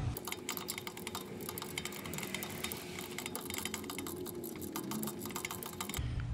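A 13mm bolt is loosened from the starter of a 2008-2012 Ford E-series van, a close, fast run of metallic ratchet clicks that continues steadily before stopping near the end.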